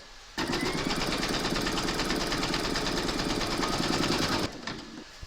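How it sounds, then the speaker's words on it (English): Embroidery machine stitching a placement outline for coaster batting in the hoop, a steady fast mechanical whirring with rapid needle clatter starting abruptly and running about four seconds before stopping. "pop your hoop into your machine and stitch round number 1, and that's going to give you your placement outline for your batting"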